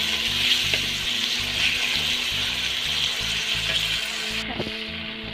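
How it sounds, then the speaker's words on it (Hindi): Two large chopped tomatoes frying with onions in a pan until soft, a steady hissing sizzle close by with a couple of faint spatula knocks and a low background hum, no talking. "2 बड़े साइज का टमाटर काट के रखे थे, वो भी यहाँ पे हम डाल देंगे और इसे भी हम थोड़ा सॉफ्ट होने तक भून लेंगे"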